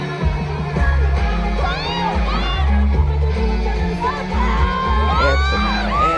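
A large concert crowd at an SB19 performance at Summer Soniс Osaka screams and whoops in rising waves over loud, thumping music, the high-pitched shrieks distant but dense and continuous.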